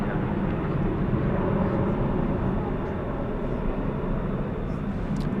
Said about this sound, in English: It's a 737-800 going to Oklahoma City, flight 2832.